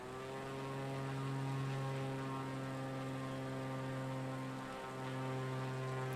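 Propeller airplane engine in Microsoft Flight Simulator 2020, climbing over London: a steady, even drone with strong tonal harmonics that dips briefly near the end and then resumes, heard alone with no talk.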